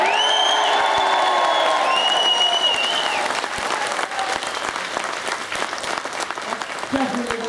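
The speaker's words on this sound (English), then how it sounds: "make some noise, show your appreciation of the riders" A trackside crowd at Donington Park applauds and cheers for motorcycle riders, sustained clapping with a few whoops, while an amplified voice speaks over the opening seconds and again briefly near the end.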